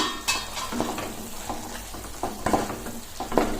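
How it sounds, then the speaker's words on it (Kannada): Vegetable palya frying in a pan on a slow flame as peanut powder is added, with a steady close sizzle broken by several sharp scraping stirs of a spoon against the pan. "ಈಗ ಇದಕ್ಕೆ ಶೇಂಗಾ ಪೌಡ್ರ್ ಆ್ಯಡ್ ಮಾಡ್ಕೊತಿದ್ದೀನಿ"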